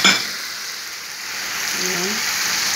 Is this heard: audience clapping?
no